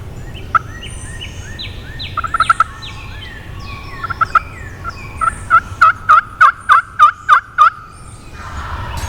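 Wild turkey gobbling close by in spring woods, several rattling gobbles followed by a rapid run of loud, evenly spaced calls, with no talk.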